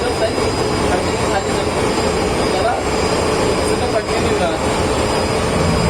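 Merchant ship engine room machinery roars in a loud, constant broadband drone with a deep low-end hum and no pauses, while someone speaks over it.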